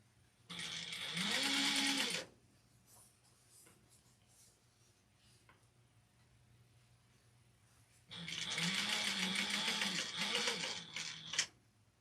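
A sewing machine stitches witch hat fabric with a 90/14 needle in two sustained runs of rapid, steady whirring. A long pause with faint handling noises separates the runs, and the motor is close and fairly loud.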